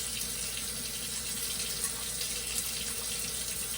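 Tap water runs steadily into a sink while hands are washed, a continuous hiss of flowing water with slight splashes, no talking.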